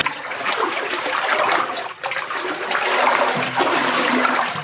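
Water runs down inside an underground passage, giving a steady rushing, splashing wash with a brief dip partway through. It is fairly close and continuous, with no talking.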